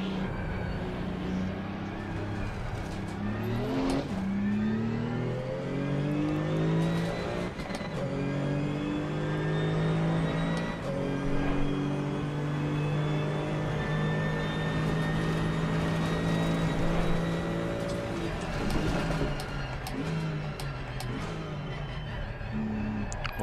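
A GT2 race car engine in the racing game Assetto Corsa Competizione revs and changes gear continuously, loud and close, with rising and falling engine pitch throughout and no talking.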